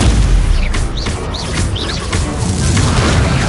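Confringo explosive spell fired repeatedly in the video game Hogwarts Legacy, with loud booming blasts and chirping magical zips over continuous thumping combat noise.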